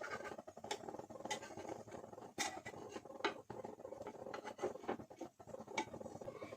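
Mini pancakes are turned over one after another in a pan, giving faint, close scraping and light tapping with an irregular rhythm and no voices.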